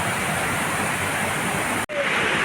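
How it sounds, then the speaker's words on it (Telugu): Lodda waterfall thunders as a loud, steady broadband roar of falling water, continuous and close throughout, briefly cut by a split-second dropout near the end. "ఫైనల్గా అయితే లుద్ద వాటర్ ఫాల్కి అయితే వచ్చినాము"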